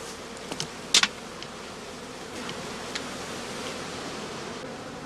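Bees buzzing steadily around straw skep hives in an apiary during heather blossom, a dense continuous hum close by with a brief louder buzz passing near.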